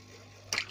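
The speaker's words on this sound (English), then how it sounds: "We use this to drain out any sediment that must have built out in this pipe over a period of time." Water gushes suddenly from an opened 40 mm drain valve on an aquaponics pipe, flushing out sediment. The close splashing rush starts abruptly halfway through after a quiet hum and surges again near the end.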